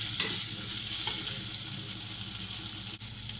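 Tomatoes and green chilies fry with ginger, garlic and onion in a pan for an egg and dal dish, a loud, continuous sizzle with soft stirring scrapes.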